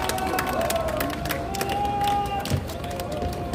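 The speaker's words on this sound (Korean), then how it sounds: "큰 박수로 환영해 주시기 바랍니다." A rally crowd applauds and cheers in a steady, dense wash of clapping and voices, with a faint tone running through and occasional louder claps.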